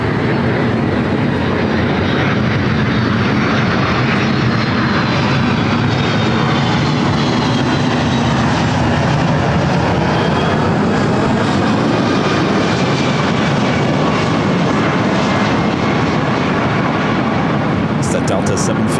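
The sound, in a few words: Delta Boeing 757-300 airliner arriving from Atlanta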